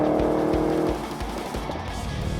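A 2019 Ford Falcon Premcar Holy Grail with a new exhaust system rumbles loudly and close, with a deep throbbing note that drops back after a second to a steadier, lower burble.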